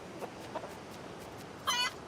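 Chickens in the farming video game Dinkum, heard as faint, sparse clucks followed by one brief louder squawk, with no talk over them.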